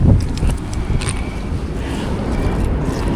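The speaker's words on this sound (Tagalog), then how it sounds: "Kasi malakas po ang hangin." Strong outdoor wind buffets the microphone beside the water where fish are caught, a loud low rumbling roar that is strongest at the start and never lets up, with no speech.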